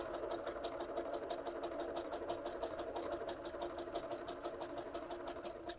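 Close and steady, a sewing machine hums and clatters at a fast, even rhythm while stitching knit fabric for a circle skirt, running without a break and with no talking over it.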